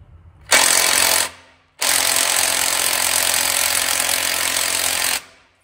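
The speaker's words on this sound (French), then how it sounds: "Et avec la boulonneuse, clé de 19." An impact wrench with a 19 mm socket hammers at a bolt in two loud, harsh bursts, a short one and then a sustained run of several seconds, with no talk over it.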